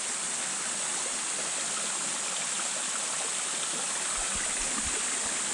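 Water rushes steadily at the Old George Dam, a broad continuous wash like a stream or spillway, even and unbroken throughout with no voices.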